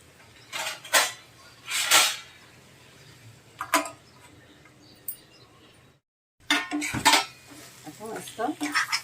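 A metal lid clanks onto a pan of prawns frying in oil, making several sharp clatters and knocks close by, then a short quiet gap before more clinking and rattling of the pan.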